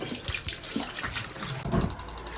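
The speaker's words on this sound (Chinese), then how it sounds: "给它淘洗一下，把上面粘液给它洗干净。" Tap water runs steadily into a sink as bullfrogs are rinsed with salt and vinegar to wash off their slime, with splashing surges as the frogs are moved under the stream.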